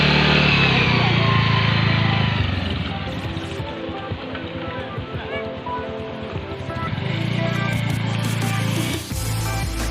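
Motorcycles ride through deep mud on a trail to Shey Phoksundo in Upper Dolpa, Nepal, and their engines drone loudly at first, ease off, then rise again while people talk over the noise.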